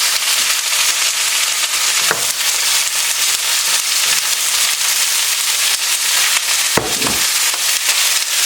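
Beef and broccoli sauce sizzling loudly in a pan as cornstarch slurry is stirred in, a continuous bright frying hiss with a couple of brief scraping stirs, no voices.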